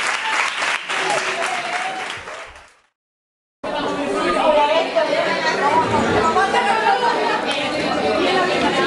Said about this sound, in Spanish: Y ya está, un aplauso,